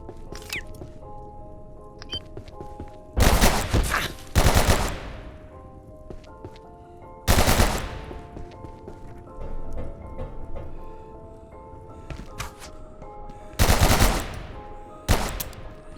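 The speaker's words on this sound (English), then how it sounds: "Those are some wild shots you're making there." Bursts of gunfire from the survival game Abiotic Factor, four or five short loud volleys spaced a few seconds apart over a quiet ambient game soundtrack.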